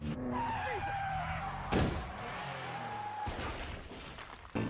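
A car swerves and skids near a cliff edge, a sustained tire-screech sweep running through the first few seconds, then a sharp impact-like burst and a second loud rush of noise, all under a tense dramatic score.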